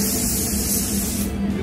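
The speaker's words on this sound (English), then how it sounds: "Start with a spray out hard every time." A paint spray gun hisses steadily and close as red car paint is sprayed onto a test panel, a continuous loud spray that eases slightly at the end.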